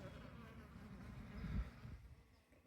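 A honey bee buzzing close by at a beehive during a winter inspection, a soft, steady hum that swells briefly and then fades slightly.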